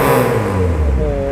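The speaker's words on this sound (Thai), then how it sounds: "คันนี้ฟังเสียงท่อกันหน่อยนะ" A modified Honda Civic with an automatic gearbox and a rev limiter revs its exhaust close by, giving a loud, steady rumble with a rising tone near the end.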